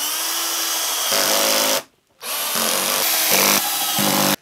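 A power screwdriver tightens screws into a sit-stand desk frame, a loud, close whirring drive in two long runs split by a short pause, the motor pitch shifting slightly as each screw seats.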